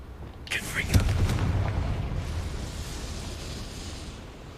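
A Confringo spell explosion in Hogwarts Legacy: a short crackling burst and a thump under a sustained rumbling roar that slowly fades, with faint background game noise.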